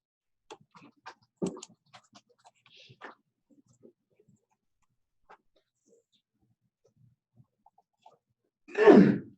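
A single sneeze bursts out loudly near the end of a quiet stretch in a computer class, preceded by scattered faint clicks and shuffles.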